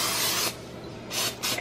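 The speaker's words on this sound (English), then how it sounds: "A little spray." Cooking spray hisses from a can in three short bursts before a keto chaffle of egg and mozzarella is made, close and fairly quiet in a calm kitchen.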